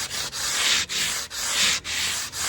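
Sandpaper rubs back and forth over guitar frets and a rounded wooden fingerboard in steady, rhythmic strokes, about five passes with brief pauses between them, close and fairly loud with no talking.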